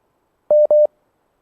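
Two short electronic telephone busy tones beep in quick succession after a dropped call, clean and alone against silence.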